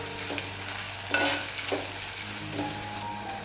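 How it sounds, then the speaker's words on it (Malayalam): Shallots frying in oil with ginger and garlic for a Kerala mackerel curry, a steady close sizzle punctuated by a few soft spatula scrapes and stirs, with no talking. "കുറച്ചൊന്ന് വഴണ്ട് വന്ന് കഴിയുമ്പോൾ നമ്മുടെ ഇഞ്ചിയും വെളുത്തുള്ളി ഇട്ട് കൊടുക്കാം."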